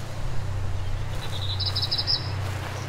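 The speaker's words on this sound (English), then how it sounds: "Thanks, birds." Faint bird chirps in the Slender: The Arrival horror game, a short run of high twittering notes over a steady low hum, with no talk.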